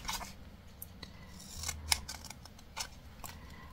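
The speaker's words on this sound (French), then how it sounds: "ce que je peux faire, c'est que je peux venir détourer en gros" Scissors cut out stickers for a winter-themed scrapbooking pocket letter, making soft, close snips and crisp clicks in an irregular rhythm against quiet paper rustling.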